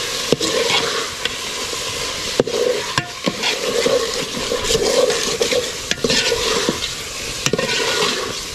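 Duck meat is stirred in a pot over a clay stove, with a continuous close sizzle, a spoon scraping through the meat, and sharp clacks of the utensil against the pot at intervals.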